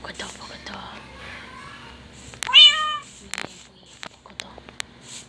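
A Minecraft cat gives a single clear meow partway through, loud and close, with soft scattered game noises and faint low murmuring around it.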